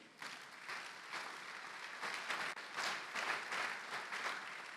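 A church congregation applauds at a Sunday service with a fairly faint, distant clatter of clapping that swells and eases across several seconds, with no speech over it.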